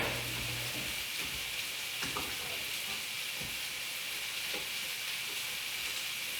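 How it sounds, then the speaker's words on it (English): Zucchini pan-fries in a skillet with a constant, even hiss and crackle, close by and moderately loud, with a couple of faint taps from a utensil and no voices. "And this is exactly what I like my zucchini to do. I like it to get pan fried just like this."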